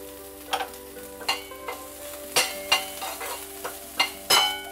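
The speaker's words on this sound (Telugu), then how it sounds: "ఇప్పుడు ఉల్లిపాయలు ఇలా కొద్దిగా ట్రాన్స్పరెంట్ అయ్యాక కొంచెం కరివేపాకు వేసుకోవాలి" Onions and curry leaves frying in a pan for samarice upma, with a low sizzle broken by repeated scraping stirs at an irregular rhythm, close and moderately quiet.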